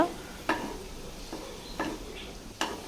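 Egg fried rice being stirred in a pan right after two eggs are cracked into the centre, with a few sharp spatula scrapes and taps spaced out over a soft, faint sizzle.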